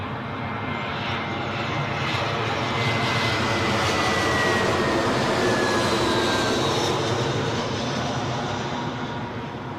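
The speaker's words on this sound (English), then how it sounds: "next up, American Airlines 7879 Dreamliner" An American Airlines Boeing 787-9 Dreamliner jet inbound at London Heathrow, its engines a broad, steady roar that stays loud and even for the whole stretch with no voices.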